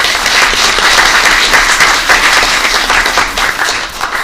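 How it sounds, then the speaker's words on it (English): Sustained applause from an audience at a town council meeting, a dense, steady wash of many hands clapping close and loud, with no voices standing out. "Y'all give yourself a round of applause."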